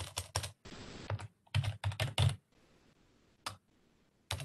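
Computer keyboard typing in bursts of quick clicks, several flurries separated by brief pauses, close and clear with no talking, while searching an academic database for psychology literature.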